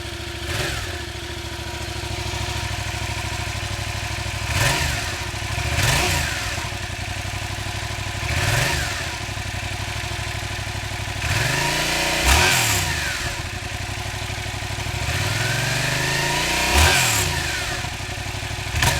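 A 2016 Yamaha FZ-07 motorcycle on its stock exhaust idles with a steady mid-pitched rumble, then is blipped in repeated sharp revs that rise and fall back to idle, loud and close.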